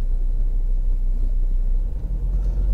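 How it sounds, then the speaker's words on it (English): A car passes on the right on a road from Dover to Margate, a steady loud low rumble of tyres and engine that holds throughout and dips briefly near the end. "Car coming around on the right."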